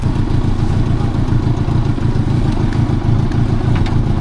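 Motorcycle engine idling while warming up, slightly low idle, a close, steady pulsing chug that holds even for a few seconds with no talking.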